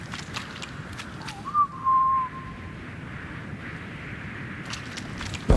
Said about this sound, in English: I thought the whistling was a stallo.